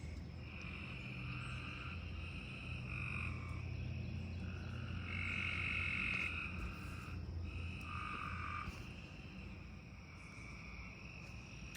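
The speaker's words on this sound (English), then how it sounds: "Listen to those frogs." Frogs croak in a vegetable garden, a steady chorus of repeated trilling calls layered with crickets, moderately loud and continuous with no talking.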